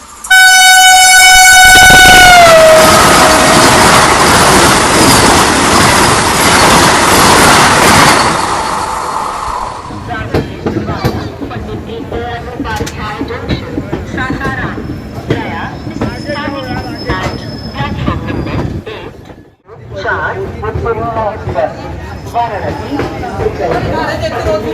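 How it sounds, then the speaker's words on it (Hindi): A Vande Bharat Express running between Gomti Nagar and Patna overtakes a train, its horn blaring loud and sustained for the first few seconds before giving way to a continuous rushing, clattering rail rumble. "वंदे भारत एक्सप्रेस इस गाड़ी को ओवरटेक करने जा रही है"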